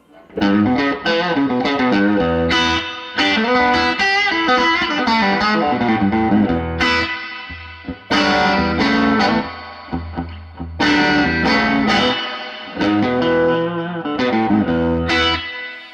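Distorted electric guitar through an MXR Echoplex Delay pedal plays chords and riffs drenched in heavy, washy reverb, loud and continuous with brief pauses between phrases.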